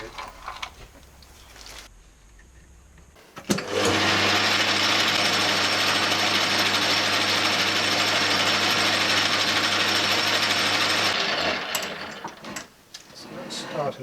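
After a sharp start, a centre drill runs with a loud, steady whirring drone for several seconds, then winds down, with quieter sounds before and after.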